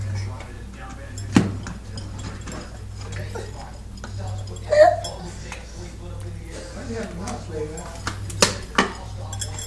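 A spoon clatters and clinks against dishes while a child named Casi is being fed, with scattered sharp taps at irregular intervals alongside low voices.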